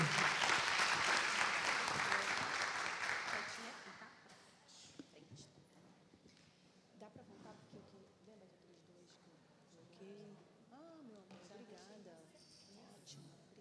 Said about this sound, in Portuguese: Gostaria que vocês aplaudissem.